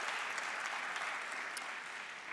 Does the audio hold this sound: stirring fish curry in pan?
no